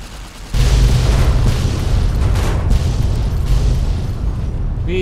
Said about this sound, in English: We just detonated a warhead.